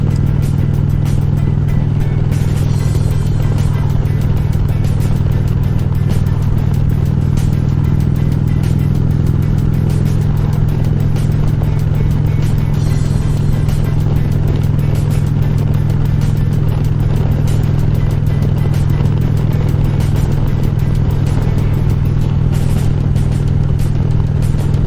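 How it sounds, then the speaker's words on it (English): A heavy motorcycle, about twice the weight of a BMW, cruises on a road over a bridge with a constant loud engine drone and heavy wind rush, steady throughout with no talk. "It's a whole different motorcycle."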